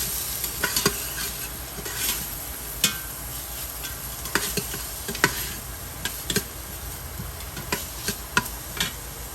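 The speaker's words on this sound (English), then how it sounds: "Everything in the pot, guys. Everything. We want this all to start saute, release flavors." Ingredients for pepper shrimp fried rice sautéing in a pot, a quiet steady sizzle broken by sharp intermittent clicks and taps of a utensil against the pot.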